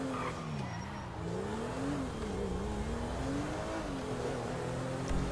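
A car drives steadily along a road, its engine note rising and falling with gentle changes in speed, a continuous close hum with occasional tire noise and no talking.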